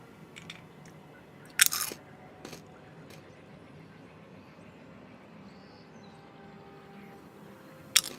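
Sparse, close crunching and chewing on a snack, a couple of crisp bites separated by long stretches of quiet room tone with faint mouth noises.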